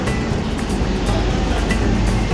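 A Kolkata Metro Orange Line train pulls away from the station, a loud, steady low rumble and rushing roar heard from inside the carriage, with no talk.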